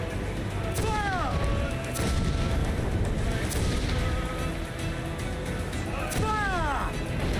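Ship cannons firing during a naval battle in Assassin's Creed IV: Black Flag, several heavy booms spread across the clip amid constant sea and battle noise, with voices shouting over them.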